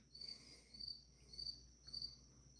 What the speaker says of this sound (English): For a moment, you didn't hear the cricket.